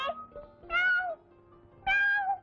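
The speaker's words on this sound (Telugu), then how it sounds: "మ్యావ్ మ్యావ్ అంటున్నావు" A cat meows three times, each call clear and close with short quiet gaps between, alone without any talking.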